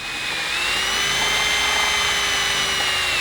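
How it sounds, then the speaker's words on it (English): A power drill bores holes for an aluminum strutless drag wing on a 1982-92 Chevy Camaro, giving a steady, sustained high whine that runs unbroken for a few seconds with no talk. "Or then we'll go ahead and drill the rest of the holes."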